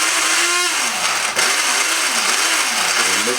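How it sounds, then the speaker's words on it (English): A small food grinder blends Cajun seasoning spices, its motor whirring loudly and close, the pitch rising and dipping in repeated swells as the blades churn the dry mix. "I'm going to put this into my little food grinder here, and we'll blend this up"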